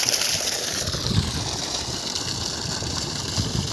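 A steady five-inch oil engine water pump, connected via a tractor, chugs continuously at close range in a paddy field, a constant mechanical drone with a watery rush layered over it and no voices.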